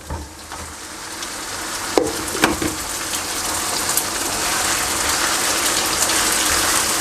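Cut chicken, 1.5 kg, sizzles steadily in a pan of light-browned onions for ginger chicken, a dense, close frying hiss with a few louder crackles and spatters, growing slightly fuller over time, with no talking.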